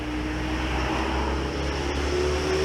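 A loud car or motorcycle goes past outside, giving a steady, full engine drone that stays strong for the whole stretch with a constant low rumble.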